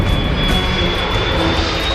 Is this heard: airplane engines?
yes